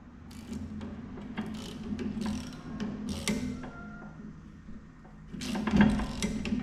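A ratchet wrench adjusting a bolt on farm equipment, giving quiet bursts of rapid clicking with a few mechanical clanks, close by and fairly faint.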